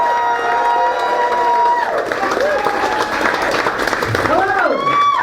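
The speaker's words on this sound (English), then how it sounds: "start clapping your hands for your headliner tonight" A comedy club audience applauds and cheers steadily for the headliner, a dense, loud wall of clapping with whoops and shouted voices on top.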